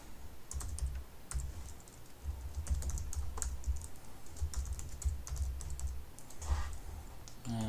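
Fingers tapping a computer keyboard in quick irregular bursts as a vehicle make and model are entered into an electronic task sheet, close and fairly quiet with short pauses between clusters of keystrokes, no talking.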